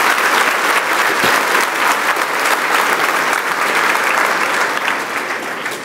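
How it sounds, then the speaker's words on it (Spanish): Sustained congregational applause at a church service, dense steady clapping from a large crowd holding at full strength for several seconds with no voices over it. "dele un aplauso a Dios con todo su corazón"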